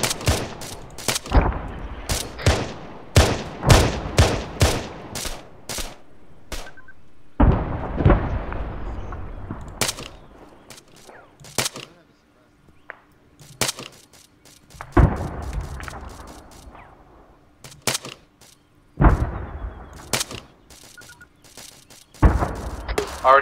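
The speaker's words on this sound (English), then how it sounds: "We have confirmation of first explosion. Sounds like it's starting to cascade." A video game military operation rumbles with a string of loud explosions and rapid bursts of gunfire, arriving in clustered volleys with short quiet gaps between them.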